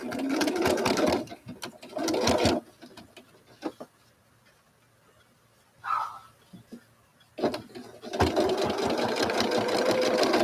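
A sewing machine stitches in dense, steady bursts near at hand, running for a few seconds at the start and again at the end with a quiet pause and scattered small clicks between, during a home sew-along session.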